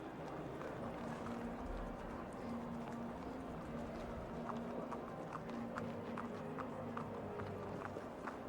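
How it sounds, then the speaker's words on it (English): Racehorses walk into the parade ring at a horse-racing club before the third race, their hooves making faint, regular clip-clops over a steady background hum, fairly distant and soft. "So the horses just about making their way into the parade ring then for our third race."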